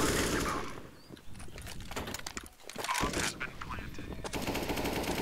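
Rapid gunfire bursts in Counter-Strike (CSGO) crackle loudly through most of the stretch, dipping briefly in the middle before resuming, with a voice talking over part of it.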